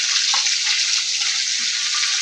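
Fish pieces fry in a pan with a steady, close sizzle of hot oil, a continuous bright hiss that never lets up and is heard alone with no voices.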